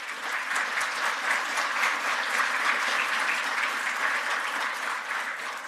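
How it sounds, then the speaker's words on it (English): A luncheon audience at a scholarship event gives sustained, even applause, a thick wash of many hands clapping at steady volume from start to finish. "Let's give our donors a round of applause."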